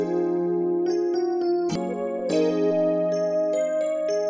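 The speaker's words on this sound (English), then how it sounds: "the AX soft lead sounds like this." Soft, flute-like lead synth, the AX soft lead preset from Xenology, playing a short melodic phrase of distinct held notes with brief attacks. It sounds clear and alone, without any talking.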